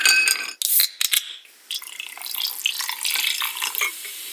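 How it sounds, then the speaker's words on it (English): A fizzy drink poured into a glass: a brief splashing pour, then a dense bright crackle of bubbles fizzing and popping close by, alone without talk. "the gas bubbles that come to the surface of a drink, and the little gas bubbles kind of pop and make this fizzing"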